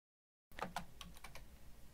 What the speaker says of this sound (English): Sorry that my typing skills suck